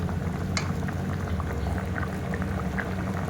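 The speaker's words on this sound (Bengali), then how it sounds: "ওইদিকে বসিয়ে দিয়েছি মাছের ঝোল করার জন্য মশলা কষাতে" Spice paste for a fish curry cooking on a stove, a steady low bubbling simmer with faint pops and spatters throughout.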